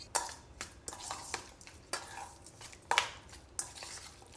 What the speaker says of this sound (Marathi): फोडणी पोह्यामध्ये चांगली मिक्स करूया